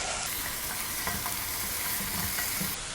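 Continuous crackling sizzle of onion and tomato frying in hot oil, steady and close, with occasional soft scrapes of a utensil moving through the pan.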